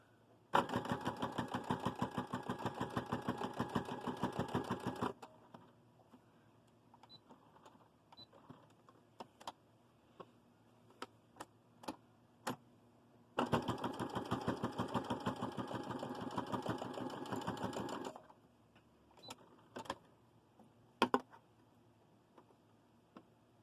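Sewing machine stitching a seam on a fabric bowl cozy, two steady bursts of rapid mechanical whirring a few seconds each, separated by quiet gaps with small clicks and handling taps.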